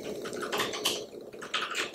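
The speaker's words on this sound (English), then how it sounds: "keyboard clicks going on, my husband is gaming right now" Quick, irregular clicking and tapping from a computer keyboard used for gaming in a nearby room, faint and soft, with rapid bursts of keystrokes and no talking.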